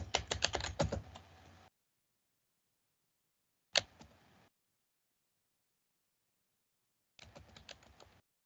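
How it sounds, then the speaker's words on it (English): Fast typing on a computer keyboard sounds close and crisp, coming in three separate bursts of rapid key clatter with silence in between. "Typing quickly here."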